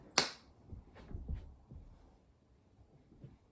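A single sharp hand clap rings out in a quiet room during a Tabata home workout. It is followed by a few soft, low thuds of movement and then near silence.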